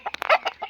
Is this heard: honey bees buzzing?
no